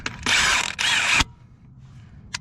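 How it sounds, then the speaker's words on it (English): A nut being spun onto a semi truck drive wheel, heard as two loud bursts of ratcheting mechanical whir close by, then near quiet with a brief metallic tick. "put the washer, put the nut back on. Just gonna tie it"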